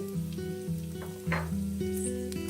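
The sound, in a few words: garlic and whole spices sizzling in oil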